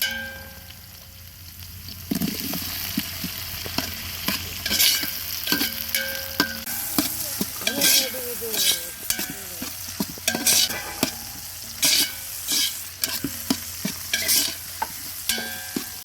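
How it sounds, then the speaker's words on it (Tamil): Onions and tomatoes fry in oil in a pan as chicken biryani is cooked, with a steady sizzle under repeated scraping and clanking strokes of a metal spoon stirring against the vessel. "இப்போ வெங்காயம் தக்காளி பழம் எல்லாம் நல்லா வந்து எண்ணெயில் வந்து நல்லா வதங்கி நல்லா பதமாக வந்துட்டு"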